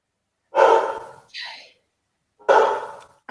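A dog pants and huffs nearby in sharp bursts, three breathy snorting blasts separated by pauses, with a brief whine-like sound after the first.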